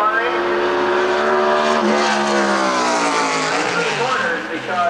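Terry Gant's NASCAR stock car screams past on a qualifying lap at Watkins Glen, its loud high-revving engine sweeping in pitch as it passes close by. A commentator talks over the roar.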